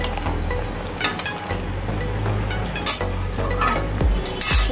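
Fried boras (fritters) are stirred into curry in a pan, giving a soft continuous sizzle with occasional scraping and light clinks of a utensil against the pan.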